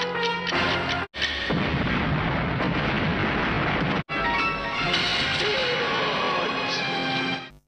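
A loud bomb blast and its roaring, crashing aftermath from the Bollywood film Mohra, in which a bomb was planted at a man's feet. The sound stays heavy for several seconds, broken by two brief silent cuts.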